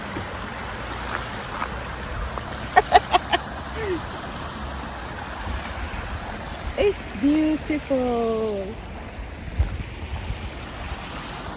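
Water pours steadily at Middle Black Clough Waterfall beside the Longdendale Trail, a continuous broadband rush under wind, with people talking briefly over it.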